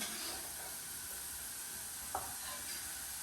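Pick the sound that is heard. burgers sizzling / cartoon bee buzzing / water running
burgers sizzling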